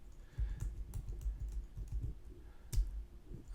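Soft, close keystrokes on a computer keyboard come in short irregular bursts, quiet and alone, as a username and password are entered.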